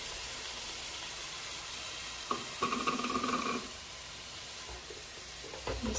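Tomato and chopped vegetables with onion hit a hot pan, giving a steady frying sizzle that swells into a louder burst of crackling, then settles back to a soft hiss.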